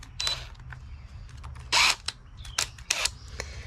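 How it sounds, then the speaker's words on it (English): An inverted Torx socket works screws loose on a Craftsman riding mower, giving close, irregular metallic clicks, ratcheting snaps and short scraping bursts with quiet gaps between and no voices. "we're going to use an inverted Torx screw, Torx head, Torx bit, whatever you want to call it, socket, to get these"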